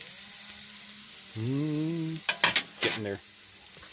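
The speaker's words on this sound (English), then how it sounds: "You fry it. You pan fry it." Food pan-frying with a soft, steady sizzle and some stirring. A voice speaks briefly over it and is followed by a few quick clattering bursts close by.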